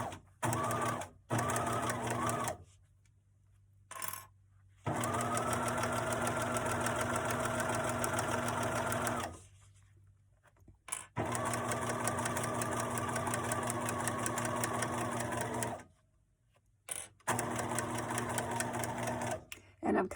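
A sewing machine stitches lining fabric onto a foam piece in several loud, steady mechanical runs with short pauses between them, including a brief stop to back tack.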